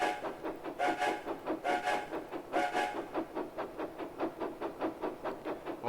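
Skarloey the engine from a Thomas-style video game sounds a series of short rhythmic whistle toots with rail clatter, several strong blasts early then a steady run of quicker pulses, fairly close and with no voices.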